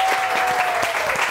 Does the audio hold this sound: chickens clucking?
no